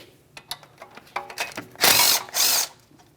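Power tool backing out a 10mm bolt from a brake flex hose bracket on the front strut of a Chevrolet Malibu: a few short metallic clicks and ratchet taps, then two loud sustained whirring bursts close by.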